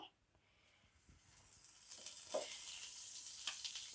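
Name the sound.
green chillies frying in a pan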